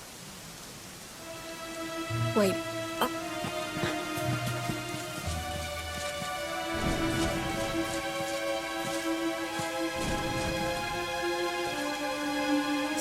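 Steady rain falls in the Dragon Quest XI game world, a continuous hiss of drops on surfaces under tonal game music, with a few brief voice sounds and low thuds.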